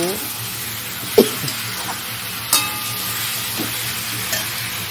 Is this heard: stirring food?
yes